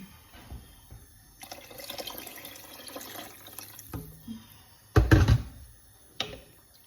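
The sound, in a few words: water poured into pan for lamb shank soup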